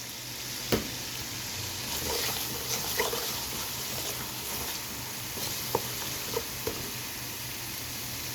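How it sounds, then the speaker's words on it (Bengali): Spices with onion, ginger and garlic fry in a pan, giving a steady close sizzle with a few sharp clicks and taps of a spoon against the pan scattered through it. "এখন আমি মশলাটাকে খুব ভালো করে কষিয়ে নেব"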